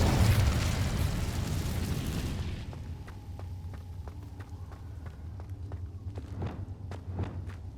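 A fiery Incendio spell blast erupts in Hogwarts Legacy as a loud, roaring burst that dies away over about two seconds. Quieter footsteps and light taps follow.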